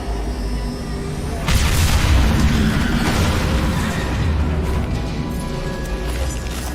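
Tanks explode in the video game Mass Effect 2, a loud, deep, rumbling blast that booms in mid-clip and rolls on for several seconds over dense battle noise.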